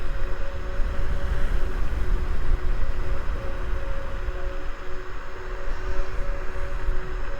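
Steady whirring motor of a Mantis Pro electric scooter from Fluid Freeride climbing a small hill, with wind buffeting across the whole stretch, continuous and fairly loud with no talking.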